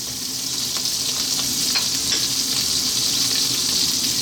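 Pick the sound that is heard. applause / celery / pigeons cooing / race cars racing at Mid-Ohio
celery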